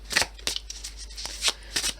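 A deck of tarot cards is shuffled by hand in close, crisp bursts of riffling and flicking, about five quick rustles spaced evenly over a quiet background.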